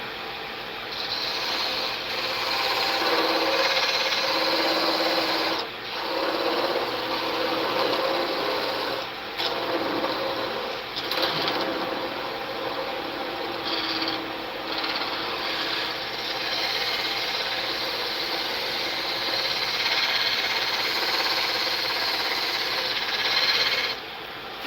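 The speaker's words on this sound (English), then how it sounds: "I know how to do it, it's a scraper." A scraper drags across wood in a long continuous rasping scrape, close and steady, broken only by a few brief pauses, with no talking.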